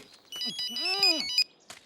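Mobile phone ringing inside a trouser pocket, a short melodic ringtone with rising and falling tones lasting about a second, fairly close, with brief voices around it.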